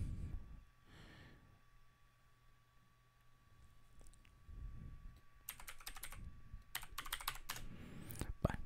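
Keys clatter on a computer keyboard while a command is typed at a command prompt, starting as soft scattered taps and turning into quick, loud bursts of keystrokes near the end.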